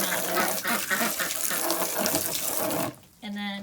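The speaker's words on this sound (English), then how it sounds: "Use the pressure from the water to just kind of rinse that out and get all the kind of slime out" Water from a hose or tap rinsing slime out of a chicken waterer, a close, loud hissing splash that runs steadily, breaks off briefly, and then resumes with a fuller filling tone.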